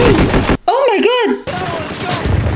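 Battle-scene gunfire from a war TV series, with dense bursts and rapid automatic fire crackling at the start and end around a short stretch of rising and falling whistles, likely shells or a voice, in the middle.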